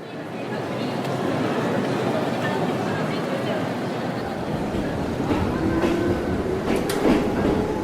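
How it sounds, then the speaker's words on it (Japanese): A passenger train running from Tokyo Station toward a seaside town, heard from inside the carriage as a steady rumbling rattle of wheels and car body, with a faint squeal and muffled voices of passengers in the background. "東京駅から海沿いの町に向かう電車に乗る。"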